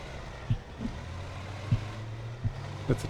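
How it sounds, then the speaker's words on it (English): A German tank engine in a video game rumbles low and steady, with a few dull thumps at irregular intervals over the drone and no talking. "German engine to the left."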